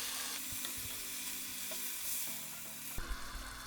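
Ground tomato and coconut paste for idly sambar hits hot oil after golden-brown roasting, giving a steady soft sizzle with a few stirring scrapes and a louder splatter near the end.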